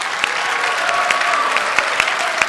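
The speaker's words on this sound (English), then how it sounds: "these guys deserve a really big round of applause" Crowd applause at a convention panel for the My Little Pony writers, a continuous dense patter of clapping with a few sharper, louder claps standing out at intervals.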